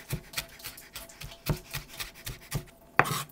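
Knife chopping a shallot on a cutting board: a steady series of soft, quick taps close by, about three or four per second, with a sharper knock near the end.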